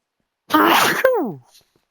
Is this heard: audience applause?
no